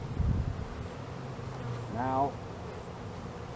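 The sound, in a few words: honey bees buzzing around a hive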